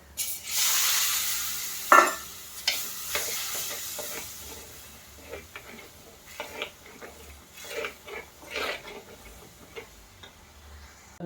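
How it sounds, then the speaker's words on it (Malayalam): Tamarind water goes into a pan of mackerel chilli curry, which sizzles softly while a spoon stirs and scrapes with light intermittent clinks. "നമുക്കിനി പുളിവെള്ളം കൂടി ഒഴിച്ചു കൊടുക്കാം"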